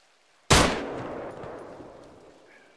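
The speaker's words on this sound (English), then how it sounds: "I'll shoot the trees behind." A single loud gunshot rings out in the video game Arma 3, a sharp crack that dies away in a long echo lasting about two seconds, heard alone with no talking.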